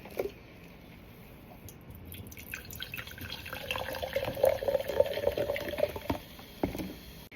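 Big Blue soda being poured into cups, with a gurgling, fizzy stream of liquid that builds and grows louder midway, close and with no voices.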